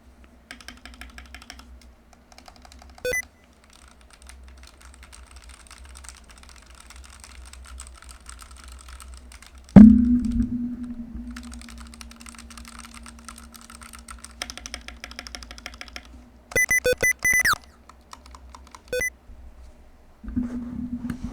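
Rapid typing on an IROK AL87 mechanical keyboard clatters in bursts, with a couple of sharp electronic tones and a sustained beep breaking in partway through.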